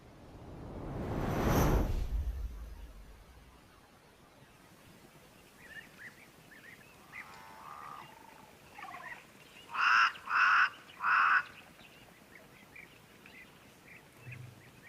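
Birds at an African waterhole: after a passing swell of noise, scattered faint calls build into three loud, rapid bursts of harsh calling, then fade back to quiet ambience.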